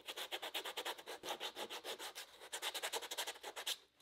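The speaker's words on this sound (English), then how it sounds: "I'm gonna try to take some of those scratches out just by hand with some sandpaper" Sandpaper rubbed by hand across Jeep parts to remove scratches, a rapid rhythmic back-and-forth scratching of even strokes, close and fairly quiet, with a brief pause midway.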